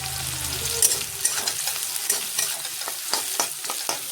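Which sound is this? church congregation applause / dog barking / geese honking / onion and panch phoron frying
onion and panch phoron frying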